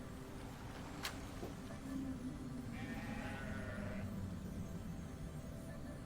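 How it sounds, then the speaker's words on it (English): Sheep bleat in a video game, a few soft cries at moderate distance over a quiet ambient background, with a brief sharp click early on. "They sound like sheep."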